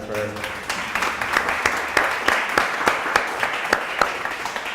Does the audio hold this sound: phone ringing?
no